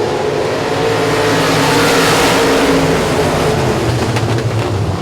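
Race cars accelerating at Boothill Speedway at the Billy Melton Memorial, a loud continuous roar of several engines revving and passing close by as the field takes the green flag.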